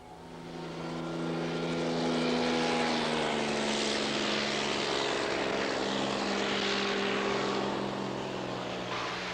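A propeller float plane flies over Brooks Camp in Katmai, grizzly country reached only by boat or plane, with a steady, loud engine drone and propeller hum that swells in and holds evenly without speech.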